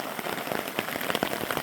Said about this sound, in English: All that stuff is just raindrops that fell off of my rain jacket.